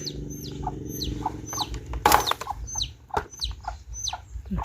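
Several chickens cluck and squawk in short, repeated bursts over a steady low hum, with one sudden loud noisy burst partway through.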